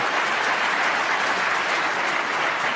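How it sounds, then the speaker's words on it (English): Spectators at a snooker match applaud a key shot, a continuous burst of close, busy clapping that stays level throughout with no commentary over it. "And both parents applauding that shot."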